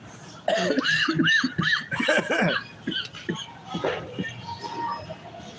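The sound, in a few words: coughing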